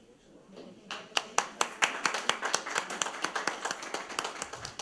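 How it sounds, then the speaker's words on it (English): A crowd at a regular meeting applauds student athletes, starting with a few scattered claps and swelling into a steady, even round of clapping that carries on to the end. "Let's give our student athletes another round of applause."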